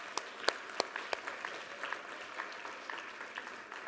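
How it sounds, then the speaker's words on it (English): Audience applause for the official delegations at the EU Ocean Days 2026 event, fairly faint and distant, with sparse individual claps standing out over a soft wash of clapping through the short burst. "A round of applause for our official delegations."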